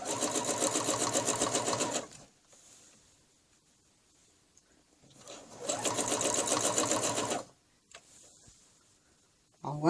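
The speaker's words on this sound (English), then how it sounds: "I'll just get on with the sewing." A sewing machine stitches in two long, loud, rapid bursts of rhythmic clatter, separated by quiet stretches with faint handling sounds.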